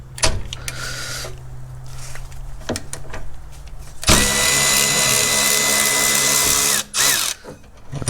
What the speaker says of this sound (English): Let's undo the upper bolt or upper mounting point for the sway bar link. It's gonna be E14 Torx